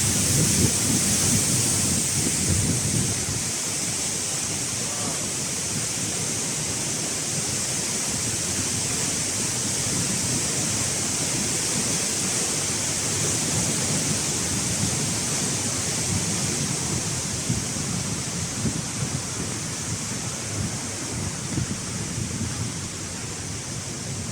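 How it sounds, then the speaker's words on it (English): Fierce indoor waterfall roaring continuously at close range, a dense, loud, steady rush of falling water with no pauses or voices. "That's the inside waterfall. It's quite fierce."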